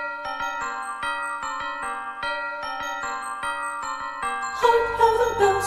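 Eerie Christmas music built on a repeating pattern of clear bell and chime notes rings alone for several seconds, then swells into a fuller, denser orchestral passage toward the end.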